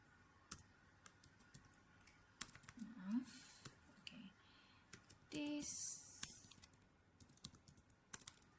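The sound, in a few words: typing on a computer keyboard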